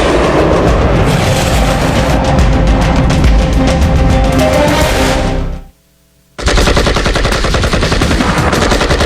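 Sustained rapid-fire machine gun bursts, loud and dense, roar for several seconds, break off into a brief silence, then resume with equally fast, hammering automatic fire.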